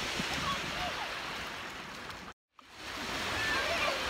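Sea waves wash onto a beach at the La Pineda resort in Spain, a loud, steady surf roar filling the clip, cut briefly by a short dropout near the middle before the noise returns.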